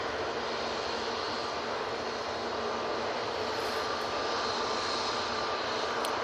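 A Ryanair Boeing 737 MAX 8 bound for Bratislava at Manchester Airport holds before its takeoff roll, engines giving a steady, loud broadband roar with a faint high whine, continuous and unbroken throughout.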